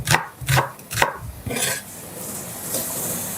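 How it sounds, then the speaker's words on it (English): Knife slicing a fresh onion thinly on a board for curried goat, giving several crisp, evenly spaced cuts in quick succession up close, then a softer rubbing sound as the slices settle. "fresh onion in here. I'm just going to slice it up thinly."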